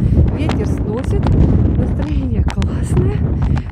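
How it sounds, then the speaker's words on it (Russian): Strong gusty wind buffets the microphone on a coastal hill during a storm, a continuous loud roar with surging gusts; a person speaks under it. "Но идем, ветер сносит."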